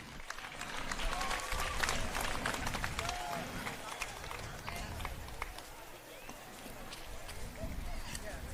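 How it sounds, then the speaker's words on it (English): Crowd at a USA BMX national race in New England applauds and cheers for two riders finishing, a steady roar of clapping and shouts lasting throughout, with an announcer's voice over it. "big round of applause. Get loud for them."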